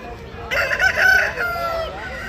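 A rooster crows once at the Pileru poultry market, a loud, strained cock-a-doodle-doo rising and trailing off, close by over faint background noise.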